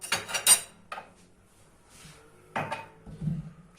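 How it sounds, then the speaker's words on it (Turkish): Stirring a walnut sucuk mixture in a bowl produces clinks and scrapes of a utensil against the bowl in a few short clusters, close by and moderately quiet, with pauses between. "Evet bu karışımımızı güzelce karıştıralım"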